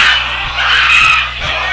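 A wrestler screams in terror during a match, a loud sustained high-pitched shriek over crowd noise with a few thuds underneath.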